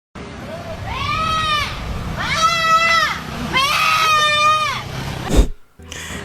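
A goat bleats three times in a row, loud and close, each call a wavering drawn-out cry, followed by a sharp knock and a brief muffled noise at the end.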